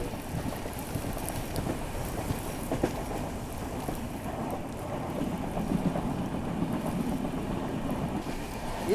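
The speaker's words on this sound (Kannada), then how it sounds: "ವಾಪಸ್ ತುಫಾನಿ ಮಳಿ ವಾಪಸ್ ಬಂತು ನೋಡ್ರಿ." Heavy monsoon rain pours steadily during a Konkan Railway train journey near Rajapur, a dense, continuous hiss with low rumbling underneath and no voices.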